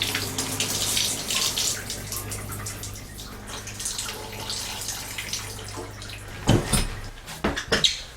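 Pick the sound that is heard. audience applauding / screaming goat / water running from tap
water running from tap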